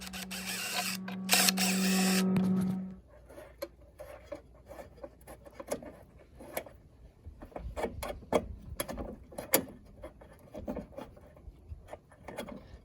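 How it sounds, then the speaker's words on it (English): A loud power-tool whir runs for about three seconds while loosening a 5/16 bolt on the cover of a Cub Cadet riding lawnmower, then gives way to quiet metallic clicks, taps and handling noises close by. "So the first thing we're gonna do is remove this cover. So I'm gonna go for that bolt right there first."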